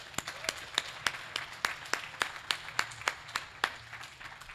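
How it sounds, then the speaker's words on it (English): Sharp, evenly spaced claps ring out at a Lake Oswego community awards event, a thin, steady round of clapping from a small audience with no voices over it. "So let's give a round of applause real quick."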